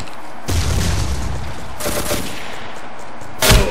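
Gunfire in the blocky first-person shooter game Ace of Spades, with a few sharp shotgun-like blasts spaced apart over a low background, fairly loud and without talk.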